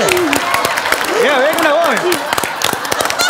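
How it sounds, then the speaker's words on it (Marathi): Audience applause at a Marathi comedy stage show, Maharashtrachi Hasya Jatra, sounds as scattered sharp claps mixed with loud overlapping voices and calls. "टाळ्या थांबू आधी"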